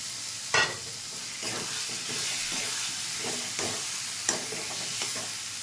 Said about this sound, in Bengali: এবার আলুটা দিয়ে দিচ্ছি, ভাজা আলুটা